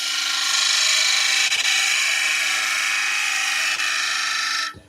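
A woodturning tool cuts a spindle on a lathe with a steady, loud, hissing scrape that runs almost unbroken, with a couple of faint ticks, and stops abruptly at the end.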